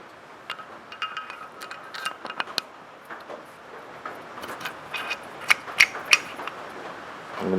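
A TH400 automatic transmission valve and its spring are slid by hand into the valve body, producing small scattered metallic clicks, taps and scrapes at close range against a quiet background.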